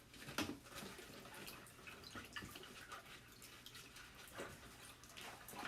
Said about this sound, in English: I'm gonna pop this in my water and get it cleaned for you